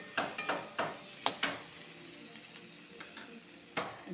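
Ridge gourd with curry leaves being stirred in a frying pan, a soft steady sizzle broken by several sharp spatula scrapes and clacks, close and fairly quiet, no talk.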